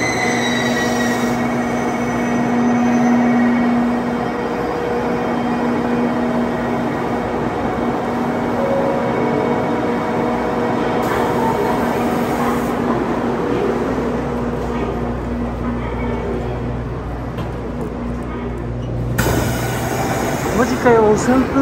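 An 8-car rapid train on the Kagoshima Main Line in Japan running from Kokura toward Hakata, heard from inside with a steady rumble, wheel noise and squealing, and a sustained electric whine, with a voice speaking over it.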